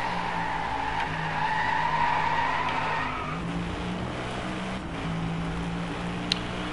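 A car drifting in the racing game Driveclub, engine droning steadily with a sustained tyre squeal rising and wavering across the first few seconds, then continuing engine noise with a brief click near the end.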